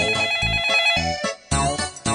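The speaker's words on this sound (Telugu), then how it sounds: "ఫోన్ రింగ్ అవుతుంది కదా" A telephone ringtone plays a bright melodic pattern of repeated tones in short bursts with brief gaps, close and clear, with no talking.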